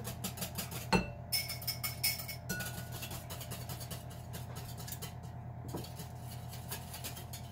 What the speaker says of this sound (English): I'm going to whisk in the melted butter